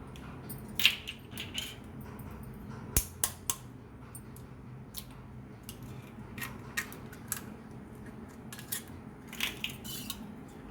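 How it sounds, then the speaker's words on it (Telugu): Beaten eggs, five of them, whisked in a bowl or small metal pot with a utensil, giving light repeated clinks and taps against the rim at irregular intervals, close and fairly soft. "ఇలా మిక్స్ చేసుకోవాలండి"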